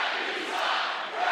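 College basketball arena crowd at a Utah State versus UNLV game reacting to a foul call, a loud, dense roar of booing and shouting sustained across the moment.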